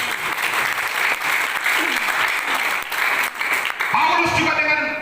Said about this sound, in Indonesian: Maukah Bapak yang beri tepuk tangan buat Tuhan Yesus?